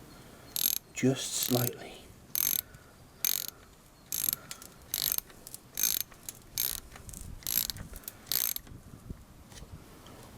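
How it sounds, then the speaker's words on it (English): A 10mm socket wrench ratchets while tightening a bolt, giving a dozen or so short, sharp clicking bursts in an uneven rhythm, close by, with a brief spoken remark partway through. "Using a 10mm socket set to do up, I tighten this"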